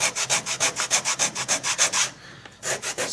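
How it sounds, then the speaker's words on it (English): Hand sanding of a rubber shoe sole, a rapid rhythmic series of gritty rasping strokes that pauses briefly and then resumes, close and loud. "I just stick my finger in the middle and then just really bear down on it and just sand away."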